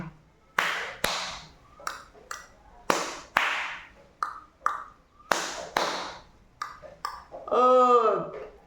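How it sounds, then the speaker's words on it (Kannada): Sharp claps in a rhythmic classroom pattern called the Pepsi clap, with uneven groups of crisp slaps and short gaps between them, ending in a brief vocal sound. "ನೆಕ್ಸ್ಟು ಪೆಪ್ಸಿ ಚಪ್ಪಾಳೆ. ಪೆಪ್ಸಿ ಚಪ್ಪಾಳೆ ನೋಡ್ಕೊಂಬರೋಣ."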